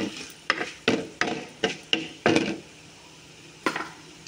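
Dried red chillies fry in ghee in a pan while a spoon or spatula scrapes and taps against the metal in a run of sharp, uneven strokes over a faint sizzle, close up, with no talking.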